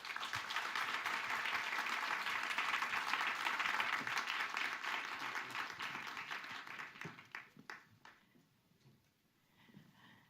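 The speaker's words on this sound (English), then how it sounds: "Warm applause." Warm applause from a conference audience at the Hanaholmen Heritage Conference rolls on steadily and fairly loud, then fades out into near silence with a few last scattered claps.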